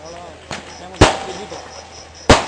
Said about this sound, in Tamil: வெடிவெடித்ததற்கு நன்றி.